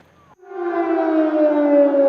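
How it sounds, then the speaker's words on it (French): Air raid siren in Kyiv winding up after a brief moment of quiet, then holding a loud, sustained wailing tone that rises slightly and fills the rest of the clip. "à chaque bombardement, les sirènes d'alarme ne cessent de retentir dans la capitale"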